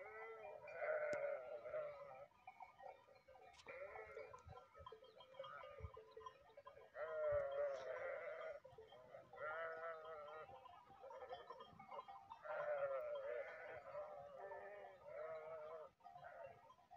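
A flock of sheep bleats repeatedly on a hillside pasture, several overlapping calls rising and falling in waves at moderate distance, with quiet gaps between bursts.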